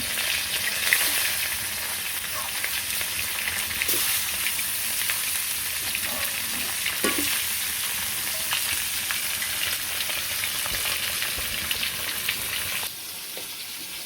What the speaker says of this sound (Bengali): এই যে কড়াইতে আলুটা